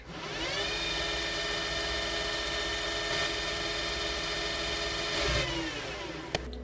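A lathe spins steadily with a high whine and hum while a flexible Cratex stick deburrs a titanium screw thread, the tone holding even before a brief sharp tick near the end.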